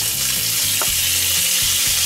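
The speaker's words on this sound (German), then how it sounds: "Und wir tun jetzt hier unser Hähnchen im Öl etwas anbraten." Chicken pieces fry in hot oil in a pot with a steady, loud, close sizzle, broken by a few brief stirring clinks.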